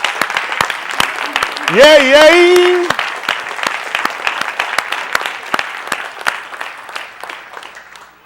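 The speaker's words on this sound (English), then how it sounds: "Let's give Mr. Yahuwah another hand clap through Yahushua HaMashiach." A synagogue congregation gives a burst of rhythmic hand clapping that continues throughout, with one voice briefly calling out a cheer near the start and some talk mixed in.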